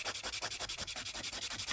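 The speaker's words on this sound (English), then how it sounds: "I'm letting the file do the work" A nail file rasps rapidly back and forth along the sides of a poly gel nail, about ten even, close strokes per second with no pauses and no talking.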